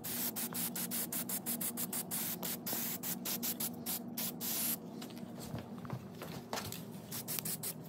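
An aerosol can sprays high-heat paint onto Harley-Davidson motorcycle fork tubes, a continuous close hiss broken by short pauses and the can's rattling bursts. The spraying runs throughout at a steady, fairly loud level.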